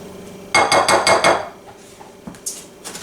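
A spoon stirs zest into a mixture in a bowl, striking the sides in a quick, close run of about five sharp clinks, followed by a few quieter, scattered taps.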